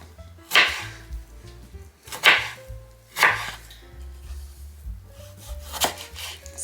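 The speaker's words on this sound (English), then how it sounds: "all I'm doing right now is just chopping up these potatoes" A knife chops through potatoes on a board in slow, separate strokes, four or five crisp cuts with short pauses between them.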